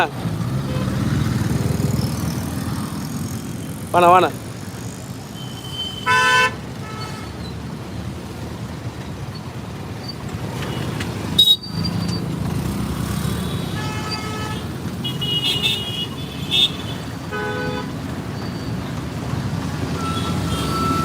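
Car horns toot several times in short bursts over a steady wash of road traffic and engine noise, with people talking throughout as the vehicle moves through congested streets.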